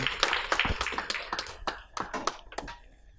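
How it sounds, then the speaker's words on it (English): A round of applause from a crowd at a school graduation ceremony, many hands clapping in overlapping bursts that swell and thin out over a few seconds. "A big round of applause for Hargaran Singh Burke, please."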